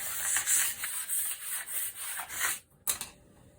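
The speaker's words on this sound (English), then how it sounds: "Make sure your board's clean. You can use your scraper for that." A scraper drags across a clay slab-making board in a run of rough, repeated scraping strokes, close and fairly loud, with a brief pause near the end.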